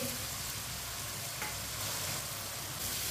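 A spoon stirs a pan of spices with added water for tinda sabzi, a close, wet scraping and bubbling sizzle that runs continuously for a few seconds without speech.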